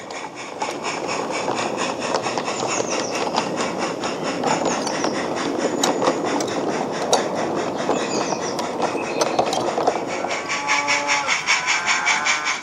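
A model goods train on a model railway rumbles steadily along with a faint clickety-clack of wheels over rail joints, running continuously with no voices.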